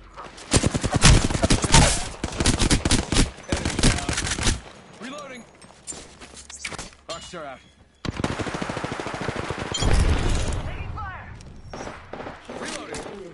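Rapid automatic gunfire in the Apex Legends battle royale game, loud bursts of repeated shots in two main volleys separated by a quieter stretch, with voice callouts and game sounds mixed in.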